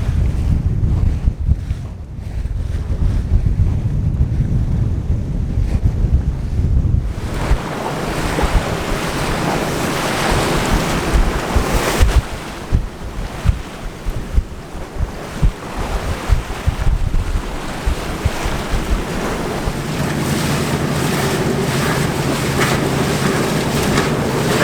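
A sailing boat beats to windward on a sunny, windy day. Loud wind buffets the microphone over the rushing and slapping of waves against the hull, heaving continuously with surges and roars, and no voices are heard.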